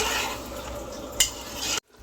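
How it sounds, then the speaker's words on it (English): Chicken and curd are stirred in a pan while cooking for biryani, a soft sizzle with a scraping stir, one sharp clink of utensil on metal, then the sound cuts off. "Give it a good mix."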